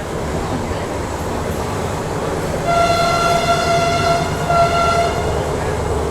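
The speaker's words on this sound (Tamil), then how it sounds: "டீசல் இன்ஜின் ஆக்ஷன் கேட்கறதுக்கு தான் நம்ம இன்ஜின் பக்கத்துலேயே உட்காந்துட்டோம்." A loud diesel locomotive engine drones steadily up close, heard from beside the engine on the Thailand–Burma Railway, and a sustained horn-like tone sounds twice over the rumble, with no speech.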